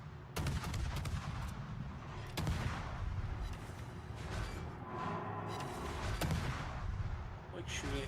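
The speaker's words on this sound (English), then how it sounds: "I have to shoot the Uganda" Naval gunfire in a warship video game: muffled booms and a few sharper shots over a constant dense rumble, fairly faint and continuous throughout.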